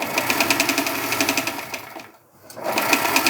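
A sewing machine stitches fabric in a fast, even mechanical chatter that pauses briefly near the end and then starts again, close and loud.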